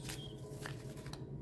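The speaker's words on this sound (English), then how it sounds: "Two more shuffles." A deck of tarot cards being shuffled indoors, giving a soft papery riffle and rustle over a steady low background hum, short and fairly faint.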